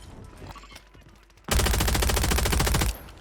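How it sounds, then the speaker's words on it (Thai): A sudden burst of rapid automatic gunfire in a video game, a loud, dense rattle of shots lasting about a second and a half, following a quieter stretch of background game sound. "ยิงไม่โดนเลย"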